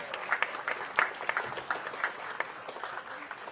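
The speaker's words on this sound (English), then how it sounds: "A round of applause for them." An audience at a school honoring and remembrance ceremony breaks into brief, moderately loud applause, with scattered claps standing out for a few seconds before it fades.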